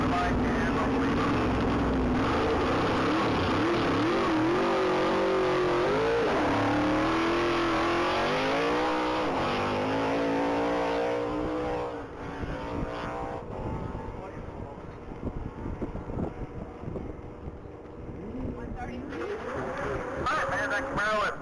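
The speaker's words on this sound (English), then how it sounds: "That Camaro is blazing down the track to the corner" An orange 1989 Camaro races flat out down a top speed mile track, its engine a sustained loud roar with rising pitch as it accelerates, while a commentator talks over it.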